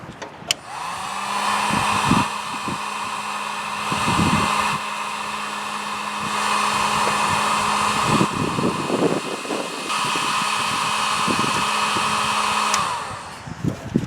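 A heat gun blows hard and continuously while shrinking heat shrink tubing over a wire on a Wheel Horse tractor's connector, a loud steady roar with brief pauses and a few clicks and handling knocks.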